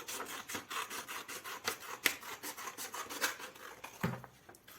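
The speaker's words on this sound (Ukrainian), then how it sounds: "відрізаю смужечки, одна смужечка, дві смужечки, другу ріжу" Scissors cutting strips of brown paper, a close, quiet run of rhythmic rasping snips and rustles, with a soft thump near the end.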